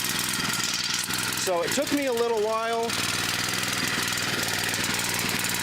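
A wood-gas-powered generator engine runs with a steady, knocking idle throughout, while a person talks briefly over the running motor.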